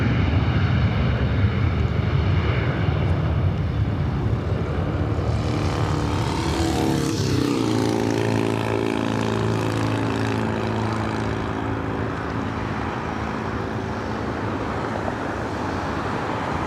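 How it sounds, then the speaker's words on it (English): A heavy airliner takes off at LAX, its engines a loud, steady roar that holds for the whole stretch, with a rising whine and swell in the middle as the jet passes closest. "Oh, that plane must be heavy, using all the runway."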